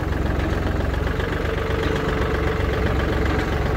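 Yanmar FX265 Japanese compact tractor with a 26 hp diesel engine idling nearby, a steady, even, low chugging rumble with a slight knocking pulse and no voices over it.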